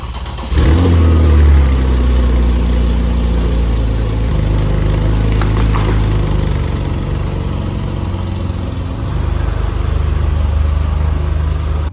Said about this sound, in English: Finally, Melissa's favorite, the 400 horsepower all-wheel drive 4S Cabriolet.